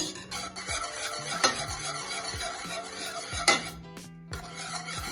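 A spoon stirring thick Jamaican peanut porridge in a pot, with repeated scraping and slurping strokes at an irregular rhythm and a couple of sharper knocks against the pot, close up.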